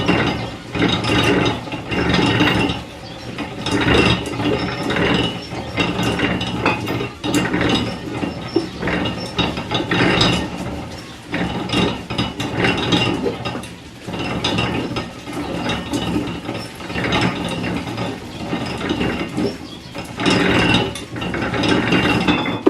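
A winemaking machine with two metal bars crushes grapes in Moldova. A loud mechanical rattling and grinding of gears and ratchets runs continuously throughout, with rhythmic clanking surges.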